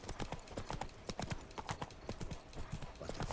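Hooves of Geralt's horse Roach clip-clop steadily in The Witcher 3: Wild Hunt – Blood and Wine, a brisk, close rhythm of repeated hoof strikes across the whole passage.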